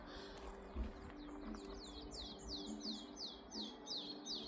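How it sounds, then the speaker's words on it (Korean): Small birds chirp in a quick repeated series of bright tweets, faint and somewhat distant over a quiet outdoor background. "새소리 들리죠?"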